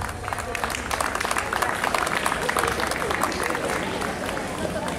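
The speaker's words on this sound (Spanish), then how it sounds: "Un fuerte aplauso para nuestras profesoras del área de comunicación." An audience at a school opening event gives its teachers a hearty round of applause, a dense continuous patter of clapping mixed with crowd murmur.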